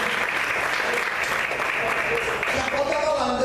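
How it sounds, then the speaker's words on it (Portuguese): Continuous applause from a church congregation at an evening service, many hands clapping in a steady wash, with faint voices underneath. "Você pode aplaudir e glorificar o Senhor essa noite"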